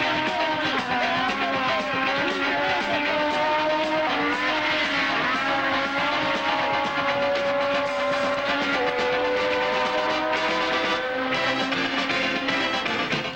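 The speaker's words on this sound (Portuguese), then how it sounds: "enquanto que a Ferrari de Ickx ingressa no box. Vai vagarosamente a Ferrari de Ickx." Formula 1 racing cars, including a Ferrari slowly entering the pits, roar loudly and continuously for over thirteen seconds with shifting engine pitch and a dense, sustained mechanical whine.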